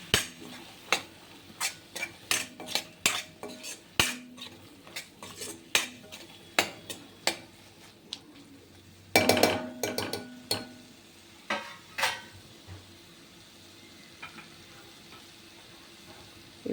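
Mushroom curry being stirred in a pan, a spoon clinking and scraping against the metal in repeated sharp taps with a brief burst of clatter midway, under a faint sizzle and no talk.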